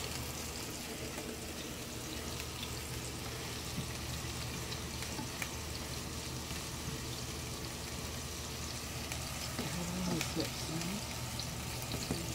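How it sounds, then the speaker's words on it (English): Bacon, onions and butter sautéing in a pan, a steady crackling sizzle throughout with faint clinks near the end, under a person talking. "I'm letting these, the bacon and the onions and the butter saute."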